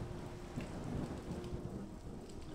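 Steady rain with low rolling thunder in the game Skyrim, heard faintly as a continuous hiss of rainfall over a deep rumble, with no voices.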